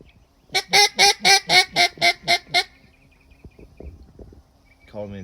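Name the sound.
duck call imitating ducks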